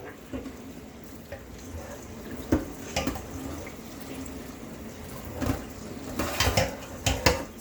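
Blueberries being rinsed in filtered water in a kitchen bowl, with a steady splashing wash of water and intermittent clinks and knocks of dishes or a colander, a few louder bursts near the end.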